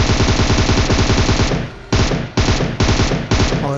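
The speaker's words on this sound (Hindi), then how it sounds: "मैं विदाउट स्कोप किए मारता हूँ ताकि ज़्यादा गोलियाँ जो रजिस्टर हो उन पे" Loud, rapid bursts of automatic gunfire from hip-fire without a scope in a shooting video game, firing in fast rhythmic volleys with short gaps between bursts.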